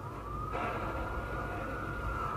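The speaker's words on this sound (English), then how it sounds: "I just got hit by the police car and now they're after me." Police car siren in the GTA 5 video game, a steady continuous wail that holds loud and constant throughout over a low rumbling engine and traffic bed, with no talking.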